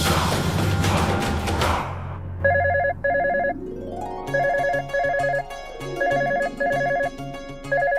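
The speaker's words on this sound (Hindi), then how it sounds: "हमारे मेकअप के बीच में किसका फोन आ गया?" A telephone ringtone plays in repeated electronic beeping bursts with a steady rhythm, preceded by a brief burst of music and a low thump.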